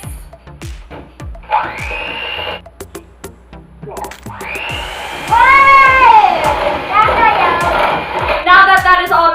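Electric hand mixer beating eggs into chocolate brownie cookie batter in a home kitchen, a loud steady whir that starts, stops and restarts, with clicks and a voice and other talk around it.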